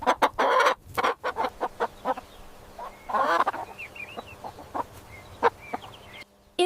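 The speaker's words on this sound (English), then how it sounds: "It's a chicken." A chicken clucks in short, irregular bursts close by, with one longer rising cackle in the middle and quieter bird chirps between, and no talking.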